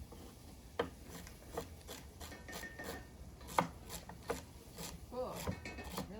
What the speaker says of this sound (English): Just rough chop everything.